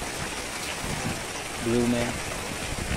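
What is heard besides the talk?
heavy rain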